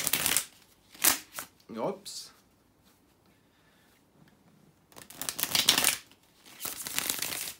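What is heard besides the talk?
riffle shuffling tarot cards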